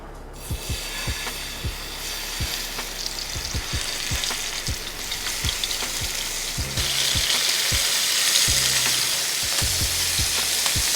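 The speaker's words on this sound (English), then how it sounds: "Once the skillet gets nice and hot, that's when we're gonna add in our scallops." Scallops searing in hot oil in a stainless steel skillet give a steady, bright sizzle, with repeated low thumps and clicks of the pan and utensil, the frying growing a little louder partway through.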